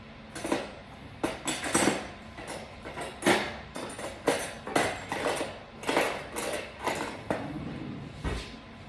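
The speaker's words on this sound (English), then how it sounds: "I'm gonna go ahead and make little holes in this with a fork" A fork repeatedly jabs into lemon bar crust dough in a pan, producing about a dozen evenly spaced, fairly close metallic taps and clinks against the bottom.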